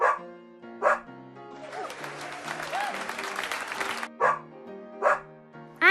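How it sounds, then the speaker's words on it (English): A cartoon dog barks in short bright bursts, two at the start and three more near the end, with a stretch of cheering and applause between them in a children's farm-animal show. "There's a dog."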